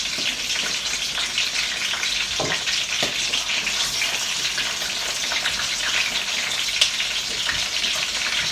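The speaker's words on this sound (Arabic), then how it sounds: "انا عايزه اجرب النهارده ان انا احمر الممبار، يعني هحمر شويه في الزيت" Mumbar, stuffed intestines, frying in oil with a steady dense hiss and crackle that stays loud and even throughout, a couple of sharp pops near the start.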